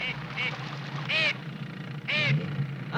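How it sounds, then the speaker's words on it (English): A flightless steamer duck on desolate, overgrown island waters gives two loud, close quacking calls about a second apart, over a steady low rumble. "A steamer duck too heavy to fly paddles to hiding."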